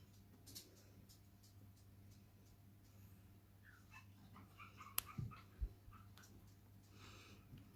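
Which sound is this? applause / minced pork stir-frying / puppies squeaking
puppies squeaking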